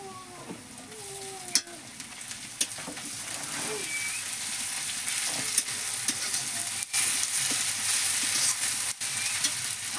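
Garlic paste fries among browned onions in a pan for a jackfruit curry, a steady close sizzle broken by sharp spoon clacks and stirring scrapes against the pan.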